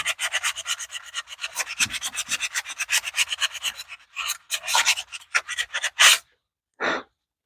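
A Kohler engine ignition magnet being rubbed clean, with quick rhythmic scraping strokes up close, then a few separate rasping scrubs and a short pause before a final brief rub.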